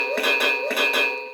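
Electronic infrared hit sound from a 1/16 scale RC Hussar Firefly tank struck by machine gun fire, a pulsing, warbling synthetic tone that repeats in short throbbing cycles at steady volume.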